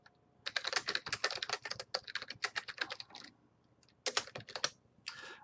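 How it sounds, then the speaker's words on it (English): Rapid typing on a computer keyboard, close and crisp, with quick bursts of key clicks separated by short pauses and a final clatter, heard alone in a quiet room. "I typed in some notes"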